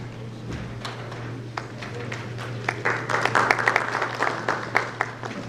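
Scattered audience applause at a financial-sector conference session, building from a few sparse claps into a moderate burst of clapping, with a steady low hum in the room.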